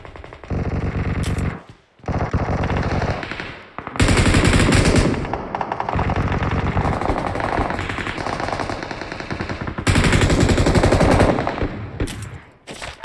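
Automatic gunfire in the mobile shooter game BGMI, played on an emulator: loud rapid bursts several seconds long, with brief pauses between them and no talk.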